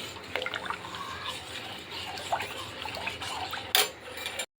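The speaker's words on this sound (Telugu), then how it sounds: "ఇలా మనం కలుపుకుంటూ ఈ పాలు అనేవి బాగా మరిగించుకోవాలి" Milk with sago boiling in a pot for custard sago payasam, stirred with a spoon: soft bubbling and liquid movement under scattered clinks of utensil against metal, ending with a sharp knock before a brief silence.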